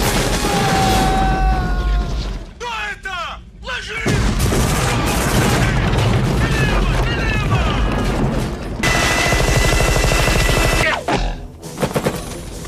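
Loud bursts of gunfire and explosions from the film Predator crash together with music and effects, broken by brief pauses, in an intense action-scene mix.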